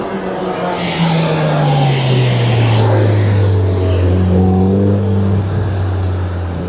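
A Mercedes A45S AMG driving the Monaco Formula One circuit in reverse up toward the hairpin, engine note close and loud, sliding steadily down in pitch as it slows, then a second engine tone joins briefly.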